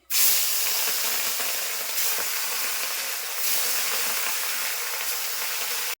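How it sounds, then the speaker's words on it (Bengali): Fish sizzling in hot oil in a home kitchen pan, a steady loud hiss with crackling spatter running continuously with no talk. "তেল গরম হয়ে গেছে, এখন মাছগুলি ছেড়ে দিচ্ছি।"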